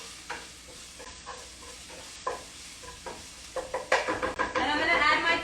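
A spoon stirs onions and garlic in a hot frying pan, close up. Scattered scraping knocks come first, then louder rhythmic stirring over a rising sizzle toward the end. No one speaks.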